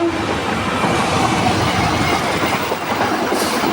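A commuter train from Blitar to Surabaya rumbles past close by at the Janti level crossing in Papar, with rhythmic clattering of wheels over the rails, loud and continuous, no voices.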